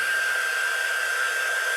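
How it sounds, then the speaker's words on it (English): A hair dryer blows steadily with a constant whirring hum and rushing air, close by and uninterrupted. "I'm going to take my hairdryer to it."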